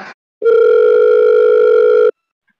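Telephone ringback tone while calling the owner of a Maruti Suzuki Omni 8-seater that is for sale: one long steady electronic tone held for nearly two seconds after a brief blip, then silence.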